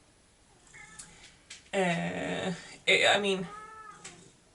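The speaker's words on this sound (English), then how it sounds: "we are probably going to get a lot of meowing now because there is now 2 cats in my room" Two cats meowing in a room, several distinct meows rising clearly over quieter stretches, with a person speaking briefly between them.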